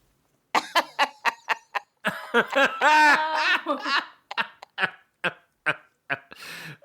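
A duck quack sound effect plays on a podcast as a burst of rapid, nasal quacking calls, loud and close, with a longer squawking run in the middle and no talk over it.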